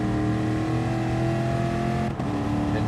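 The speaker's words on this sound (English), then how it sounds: "Looks like Cupcake's taking and winding the gears all the way out on the car" A race car engine in a racing video game revs high through the gears at Laguna, a loud, continuous buzzing whine that climbs, dips briefly at a shift, then carries on.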